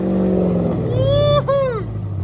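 Dodge Durango SRT with a 6.4L HEMI V8 idling, then revved up sharply, briefly dipping and climbing again before settling back, loud and close.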